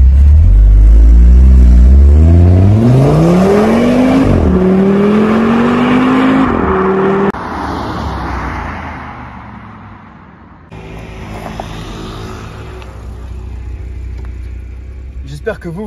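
Audi RSQ3 with a 310 hp engine accelerating hard on a straight road, a loud rising engine note that climbs through gear changes, then settles into a quieter cruising drone.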